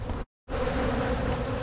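Honey bees drone steadily around an opened hive during an early-season colony inspection, a close, continuous buzz broken by a brief gap of silence near the start.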